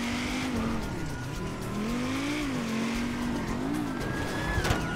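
A BMW 325is in the GTA game speeds along with a wavering engine tone and bursts of tire squeal, loud and continuous as the car slides and corrects.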